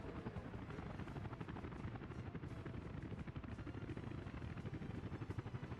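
A helicopter in the game Workers & Resources: Soviet Republic gives a continuous rhythmic rotor chop with engine drone, steady and fairly quiet, with no speech.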